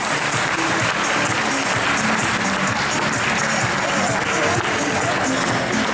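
A crowd applauds at the finish line of a children's running race, with dense, steady clapping filling the whole stretch at an even level.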